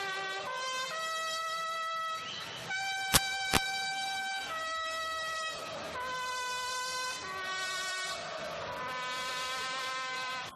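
Fans of São Paulo celebrate the club's 2005 world title outside Morumbi stadium with plastic horns blaring long, overlapping, wavering tones. The sound is loud and continuous, two sharp whistle-like blasts cut through briefly, and no talk is heard.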